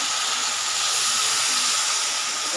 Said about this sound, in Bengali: আমি এখন জল দিয়ে দেবো ঝোলের জন্য